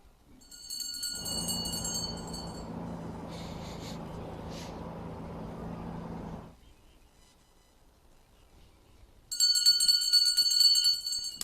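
A last-lap bell rings at a mountain bike race's start-finish line: a short bright ringing early on, then a louder burst of rapid clanging near the end, after a stretch of broad rushing crowd and course noise.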